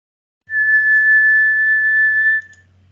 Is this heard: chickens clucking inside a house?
no